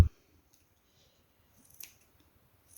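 Scissors snip a macramé leaf in a couple of brief, crisp cuts spaced apart in an otherwise quiet room, close to the listener.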